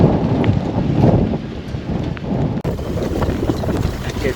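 Rain and gusting wind roar steadily outdoors during a storm at Marzamemi, Sicily, a rough stormy wash with buffeting against the microphone.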